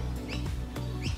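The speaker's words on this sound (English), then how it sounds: "my background music is the natural wildlife, full of birds here in surrounding trees" Birds chirping in the trees around an outdoor orchid garden, three short bright tweets close by over a steady background.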